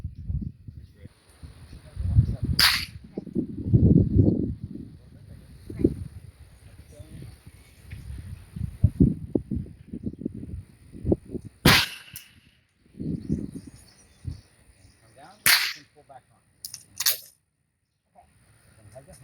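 Sharp gunshots crack out at a gun range, a single shot early, another around the middle and a quick cluster of three near the end, between stretches of people talking close by.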